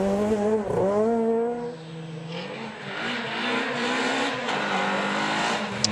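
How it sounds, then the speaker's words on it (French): A Suzuki Swift rally car races along a stage of the 2014 Jänner Rally in the European Rally Championship, its engine revving and climbing through gears, loud and close before settling into a sustained high whine as it passes. "rallye d'Autriche à l'image de Michael Baum au volant de sa Suzuki Swift."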